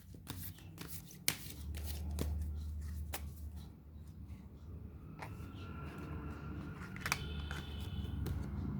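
Tarot cards being shuffled and drawn by hand, a run of soft riffling and flicking with a few sharp snaps, fairly quiet against a low steady background hum.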